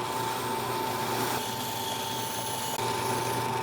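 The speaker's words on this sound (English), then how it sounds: "Instead, I just got wire wheels and put them on the drill press" Continuous whirring, grinding hum of a wire wheel spinning on a drill press, used on Yanmar engine parts, steady and close, with no talking.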